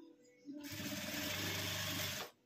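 A sewing machine runs steadily for about two seconds, stitching a press-stud tip onto a small zippered cloth pouch, a continuous close whir that starts and stops abruptly.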